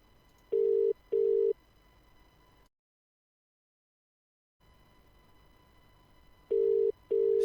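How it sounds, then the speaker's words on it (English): A phone ringing tone repeats in pairs of steady beeps, separated by a stretch of complete silence, with faint line hiss between rings. "It's ringing."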